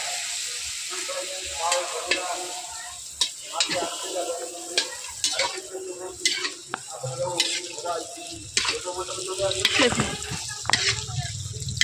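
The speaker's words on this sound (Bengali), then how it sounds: "এভাবে হাতের মধ্যে নিয়ে তেলে ছেড়ে দিতে হবে" Fuchka (golgappa) puris sizzle and fry steadily in hot oil, the crackle continuous across the stretch with occasional clinks and stirring knocks, close and moderately loud, with no talking.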